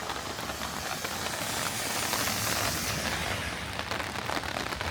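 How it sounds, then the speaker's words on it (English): Heavy rain pouring down on a cold day in Valdese, North Carolina, a dense, steady hiss of drops that thickens slightly midway, with no voices. "the rain is intensifying. The precipitation is really starting to come down now"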